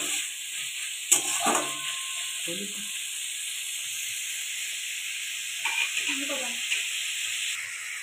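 Beans and carrots tipped into a hot pan: a steady hiss and sizzle running throughout, with a few clinks and stirring scrapes, while a person talks intermittently.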